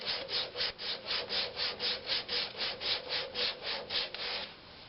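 Sandpaper rubs against a walnut hollow form spinning on a woodturning lathe, giving a steady run of about seventeen even, rhythmic scratchy strokes at close range, with no talk.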